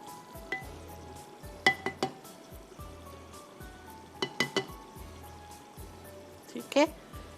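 Chicken with coarse coriander and chili powder fries in a pot for a handi chicken pasanday dish, a low steady sizzle broken by scattered clinks and scrapes of a stirring spoon against the pot.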